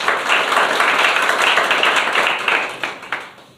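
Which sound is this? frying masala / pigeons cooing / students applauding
students applauding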